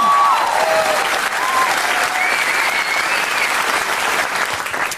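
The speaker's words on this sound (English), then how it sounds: "So gentlemen, burst your gloves with applause, and ladies, make as much noise as your tiny hands will allow." A theatre audience claps loudly and continuously to welcome comedian Tim Minchin on stage, a thick sustained roar of hands with a few faint whoops rising above it.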